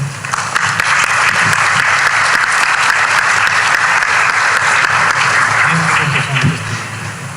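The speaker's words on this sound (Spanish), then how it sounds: "Un aplauso, por favor." Audience applause at a constitutional justice lecture in Bolivia fills the hall, a dense, steady wash of many hands clapping at full strength throughout, easing slightly near the end.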